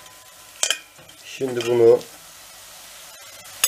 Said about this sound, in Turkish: Güzelce bir kızartalım arkadaşlar etleri de.